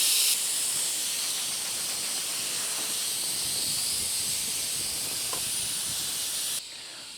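An Afghan cooking pot hisses steadily outdoors while goulash soup cooks, giving a continuous, loud, broadband rush of escaping steam that holds for several seconds before dropping slightly at the end.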